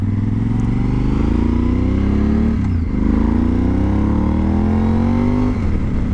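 Motorcycle on an evening ride accelerating loudly and steadily up close, engine pitch climbing through the gears with a brief dip as it shifts, then rising again.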